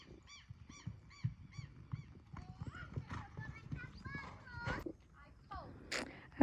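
Hooves clip-clopping in a steady rhythm with horses whinnying and neighing over it, while people talk in the background, during riding training in a park.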